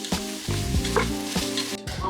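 Food browns in a hot pan with a continuous loud sizzle as a utensil stirs it and knocks against the pan in several separate scrapes and taps.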